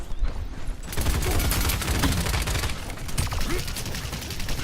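Rapid, sustained gunfire from the Paladins video game, dense overlapping bursts of shots at close range running almost continuously, with no talk.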